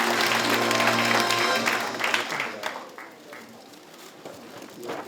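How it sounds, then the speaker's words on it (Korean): Brief applause in a hall at an agricultural research awards ceremony in Gyeongbuk, strong at first then thinning out, with a voice speaking over the fading claps. "큰 박수 보내주시기 바랍니다."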